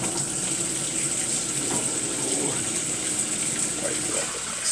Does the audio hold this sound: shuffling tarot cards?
no